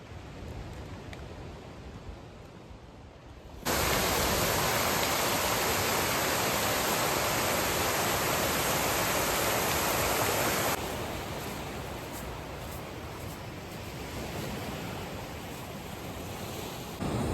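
Ocean waves surge and break on a beach along the West Coast Trail, a steady broad roar that swells loudly midway for several seconds, then eases back to a softer continuous wash of surf.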